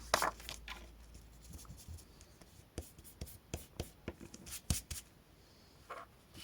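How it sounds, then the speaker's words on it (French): A rubber eraser rubs over paper to remove graphite pencil lines on a handmade dinosaur-head birthday card, giving soft, close scratchy strokes in an uneven rhythm with brief pauses. "je suis venu gommer tous les traits de crayon bois que je vois encore"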